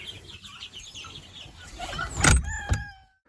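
Young spring chickens clucking in short, scattered calls, joined near the end by a couple of louder bumps and scrapes close by before everything falls quiet.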